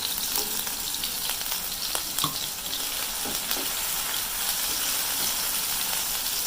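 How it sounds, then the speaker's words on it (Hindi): Green peppers and tomatoes frying in a pan for an aloo shimla mirch salan, a constant hissing sizzle with occasional faint stirring clicks, steady and moderately loud, no speech. "इनको थोड़ा सा हमने फ्राई करना है ताकि जो हमारे टमाटर हैं वो अच्छी तरह गल जाएं।"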